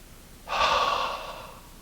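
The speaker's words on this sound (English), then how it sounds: "Now open your mouth and let the breath go." A single deep exhale pushed out through an open mouth during an outdoor yoga session in a park, a soft breathy rush lasting about a second that fades gradually, close and alone with no talking.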